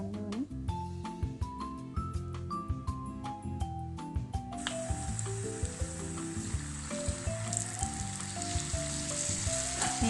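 Battered potato strips drop into hot oil, setting off a busy crackling sizzle with scattered sharp pops that grows denser as more pieces go in; no one speaks.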